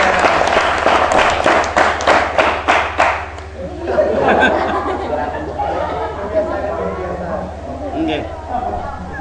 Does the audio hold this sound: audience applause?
yes